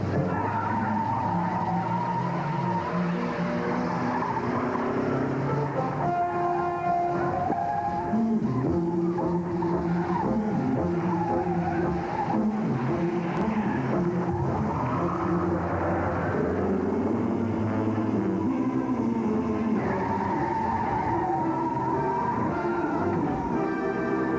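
A 1986 Chrysler LeBaron GTS and a BMW 528e race hard, their tires squealing in long, loud, wavering screeches over steady engine roar, continuous throughout.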